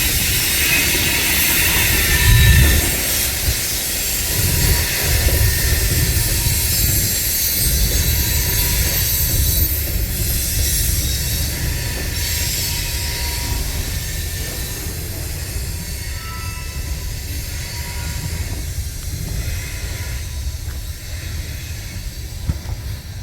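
Westbound train at Durand rolling past a crossing, a steady broad rumble with hiss and high metallic wheel squeal running throughout, loud and close, no talk.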